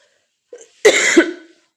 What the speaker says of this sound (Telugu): ఫుల్ అయితే దగ్గు వస్తుందండి